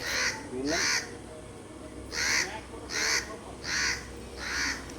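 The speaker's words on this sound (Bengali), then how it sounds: "বিকেলবেলা শালিক পাখিগুলো কিছু মিচুর কিছু মিচুর করছে" Myna birds in the afternoon give a series of six harsh, raspy calls in an irregular rhythm, fairly near and quite loud, over a quiet outdoor background.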